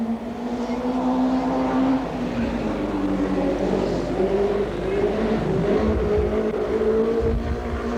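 Hot rod race car at a 1980 world final lapping a track close to the safety wall, its engine a steady loud drone with shifting pitch that holds throughout, the tail hanging out through a wide line.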